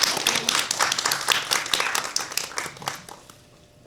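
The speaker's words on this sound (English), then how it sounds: "Can we please have another round of applause?" Audience applause at a panel event on creative expression, a dense wash of many hands clapping that holds steady and then thins and fades toward the end.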